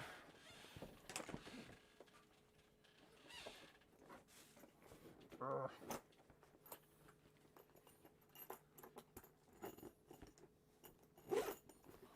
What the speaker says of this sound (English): let me zip this back up for a second